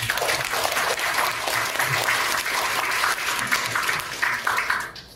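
An audience at a Korean history lecture bursts into sustained applause, loud and steady for about five seconds before tapering off at the end, with no talking over it.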